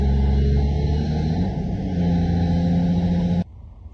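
A heavy machine's diesel engine runs steadily at working RPM while its hydraulics operate an auxiliary thumb, a loud, continuous low rumble with a slight rise in tone midway, cutting off abruptly near the end.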